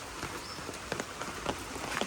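Heavy rain pours steadily over a village market area, a dense wash of drops striking surfaces with scattered sharper splashes throughout, moderately loud and continuous.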